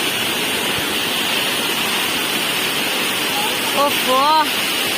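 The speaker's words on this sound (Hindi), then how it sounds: "देखु पूरा माने सानघागरा वाटरफॉल दृश्यटा ये एमती जाइए पहाड़टा से झरणाटा" Rushing water from the Sanghagara waterfall roars loud and constant, with a brief vocal exclamation near the end cutting through the din.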